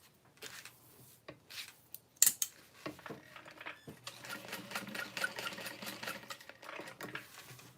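A home sewing machine stitches binding, first in short stop-start clicks and bursts, then a steadier running hum with rapid needle ticking, fairly quiet and close.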